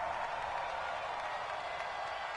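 A faint, steady roar of a cheering stadium crowd in an American football video game on PS4, building ahead of a big third down, with no distinct claps standing out.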